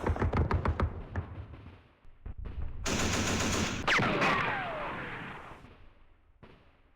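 Rapid machine gun fire from a Vietnam War strategy video game: a string of sharp close shots, then a loud sustained burst with a descending whistle and a long fading rumble.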